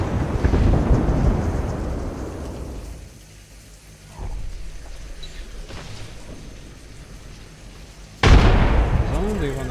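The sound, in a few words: grenade explosions in a video game (Pinpin Legends)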